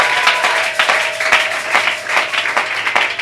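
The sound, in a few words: applause and acclamations in church service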